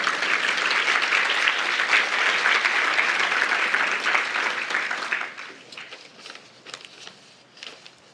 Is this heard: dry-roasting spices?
no